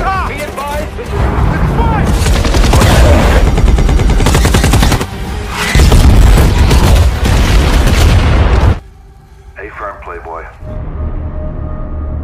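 Heavy gunfire in a war film featuring a US army drone mission, dense sustained bursts of automatic fire with booming blasts, loud and close, dropping off abruptly near the end to quieter scattered sounds.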